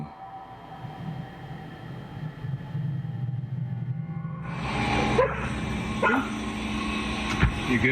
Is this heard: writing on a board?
no